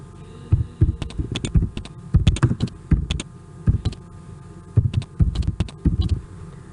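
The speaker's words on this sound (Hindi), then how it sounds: "ट्रेन का नाम हम यहाँ पर टाइप करते हैं।" Someone types a train name into a form on a computer keyboard, producing bursts of close, clicky keystrokes separated by short pauses, with a low hum underneath and no speech.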